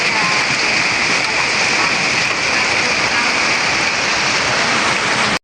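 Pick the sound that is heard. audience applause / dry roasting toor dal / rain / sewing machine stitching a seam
rain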